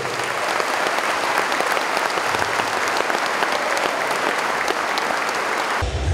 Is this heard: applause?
yes